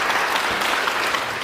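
An audience at the CodeConf 2015 tech conference applauds a speaker's welcome, the many hands merging into a steady, full wash of clapping throughout the short moment.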